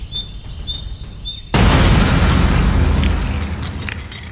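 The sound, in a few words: explosion in Romania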